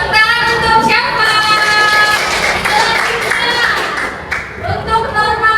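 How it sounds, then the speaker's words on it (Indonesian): Classroom clapping in a rhythmic group beat, loud and close, continuing over several seconds with voices mixed in. "Tepuk tangan untuk siapa?"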